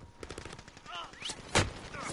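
Rapid gunfire in a PS4 video game rattles in quick bursts, topped by one sharp, loud shot near the end, with a voice heard faintly underneath.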